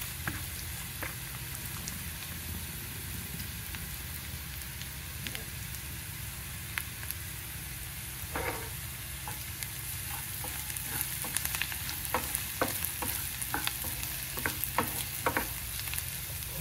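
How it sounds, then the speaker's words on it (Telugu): Crushed garlic and cumin frying with onions in a pan for a ridge gourd curry, a quiet steady sizzle with scattered sharp crackles and stirring clicks growing busier toward the end. "ఇప్పుడు ఇందులో జీలకర్ర, వెల్లుల్లిపాయ దంచి వేసుకుంటున్నానండి"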